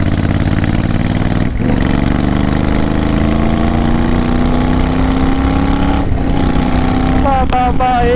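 A Royal Enfield Continental GT 650 parallel-twin idles without its exhaust, a loud, raw, steady burble close by, with a brief throttle blip late on and a voice talking over the engine.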